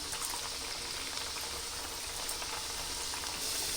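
Balls of dough made from wheat flour and gram flour fry as nimki in hot oil, giving a continuous dense sizzle and bubbling at a close, steady level with no talking.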